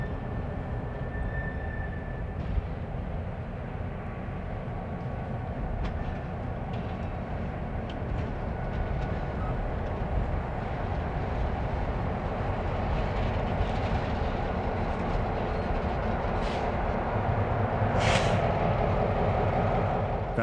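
Idaho Northern & Pacific Railroad freight train with boxcars rolling past at a loading stop, a steady, continuous rumble of moving cars held at even loudness throughout, with no talk.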